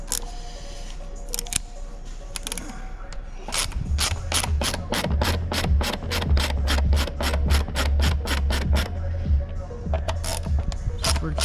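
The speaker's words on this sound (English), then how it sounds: "T20 screws. We're gonna remove all of these guys." A ratchet driver clicks rapidly and steadily while backing out T20 screws on BMW 35d M57 diesel engine parts, a fast close-up ticking run after some lighter handling sounds, ending with a few slower clicks.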